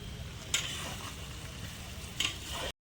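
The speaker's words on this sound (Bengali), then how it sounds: "বাবান্দা ওখানে হাতা দিয়ে আলুগুলো তুলে নিচ্ছে" Potatoes frying in a pan at an outdoor winter-night neighbourhood picnic, stirred and lifted with a ladle; a steady sizzle runs throughout, with two sharper scraping stirs near the start and end, no talking.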